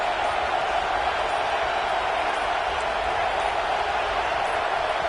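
A stadium crowd at a college football game against Iowa roars in a loud, continuous wash of noise, steady throughout with no breaks.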